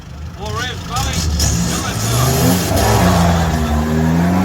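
A mud drag vehicle engine revs hard at a Parakao mud drags event, loud and close, its pitch rising and sweeping over several seconds while people talk nearby.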